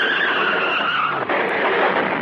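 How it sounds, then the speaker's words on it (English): A car skidding and crashing as a comedy sound effect, a loud continuous tire-squeal screech running throughout with a brief break near the middle before resuming. "That's the only car sound we could find. The one that crashed."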